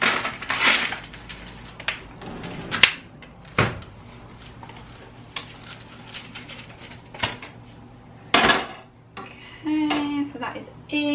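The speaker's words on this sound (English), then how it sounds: "let me put this mincemeat in first" Mincemeat going into a pan for spaghetti bolognese, heard as scattered kitchen clatter of utensils, packaging and cookware bumps with brief thuds, pauses between, and a sizzle rising near the end.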